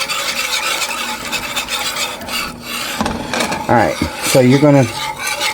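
A whisk scrapes rhythmically through flour and milk for sausage gravy in a pan, a loud close rasping that continues under a man's speech.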